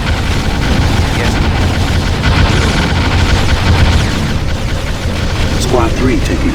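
Gunfire and explosions in the real-time strategy game Ground Control, a dense, loud, continuous barrage with booms, and radio-style unit voices speaking over it.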